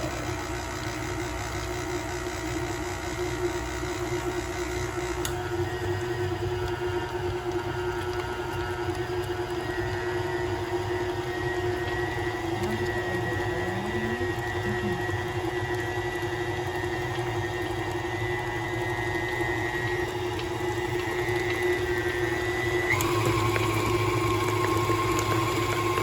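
An electric mixer whirs steadily as it beats powdered sugar frosting for cupcakes, a close, even motor hum that steps up in speed a couple of times.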